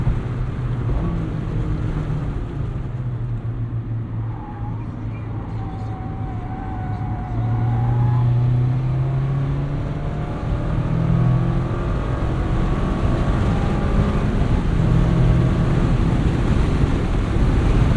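A 2024 Mazda MX-5 Miata ND3 takes a quick corner, its engine droning low and rising in pitch amid steady road and wind roar heard from inside the cabin.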